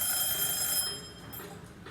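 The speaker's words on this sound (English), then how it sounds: "That was my timer for 30 minutes" A 30-minute timer rings in a craft setting, a bright, rapid electronic ringing that lasts under a second and then fades into quiet room tone.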